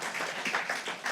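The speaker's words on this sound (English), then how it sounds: "Now, you're supposed to clap right there as well." A political rally audience bursts into brief, dense applause, a steady wash of many hands clapping at moderate distance for about a second.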